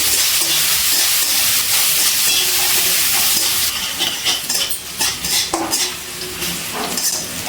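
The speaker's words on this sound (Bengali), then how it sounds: "এবার পেঁয়াজটা খুব ভালো করে ভেজে নিচ্ছি।" Onions frying in a kadai, a loud continuous sizzle that thins partway through while a metal spatula scrapes and clinks against the pan in irregular strokes.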